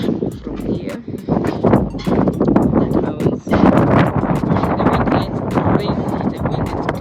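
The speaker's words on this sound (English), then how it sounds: "The wind is crazy. Please forgive me for that." Strong gusts buffet the microphone outdoors on a rooftop with mountain views, a loud, continuous rumbling roar that swells and dips with a brief lull midway through.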